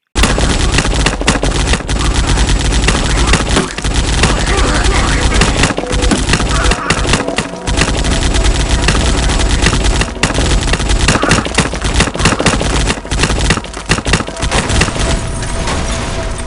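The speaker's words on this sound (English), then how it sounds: "And we have another turret defense section." A turret machine gun fires in the zombie video game Day of the Zombie, a loud, unbroken roar of rapid shots with booming impacts layered underneath, with talk over it.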